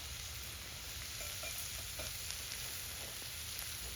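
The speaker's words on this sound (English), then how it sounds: "Time to get some mushrooms in there." Honey mushrooms frying in a pan over an open fire, a steady close sizzle with faint crackles and light stirring, heard alone without speech.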